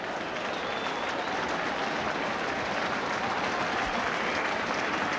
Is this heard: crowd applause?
yes